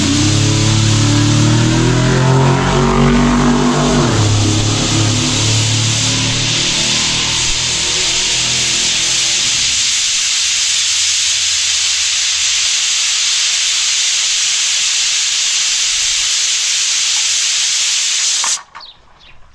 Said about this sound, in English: so I'm going to vent this one